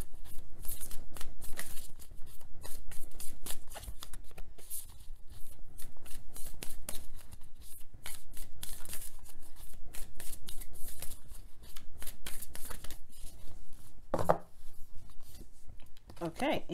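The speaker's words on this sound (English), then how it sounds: "so I'm just going to shuffle it again" A deck of tarot cards is shuffled up close: dense, rapid flicking and riffling that carries on almost without pause, with a sharper snap near the end.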